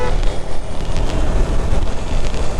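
A KTM Duke 390 motorcycle at roughly 100–120 km/h gives a loud, constant roar of wind buffeting over a deep engine rumble, with no voices.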